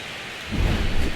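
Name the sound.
rainstorm with thunder in a baseball video game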